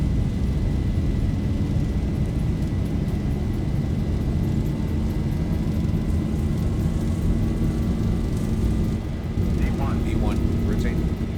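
Airliner engines held at takeoff power in the X-Plane 11 flight simulator, a loud, continuous, close roar with a deep rumble that stays steady throughout.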